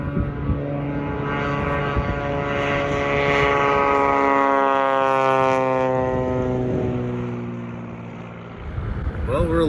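A small propeller airplane that dropped off hunters at a snowy Alaskan caribou camp flies away, engine drone loud and close, rising and shifting in pitch as it passes and then fades.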